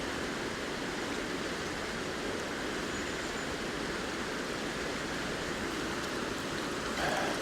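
River water rushes around a big boulder as the current splits to either side, a steady broadband wash of flowing water, close and continuous throughout.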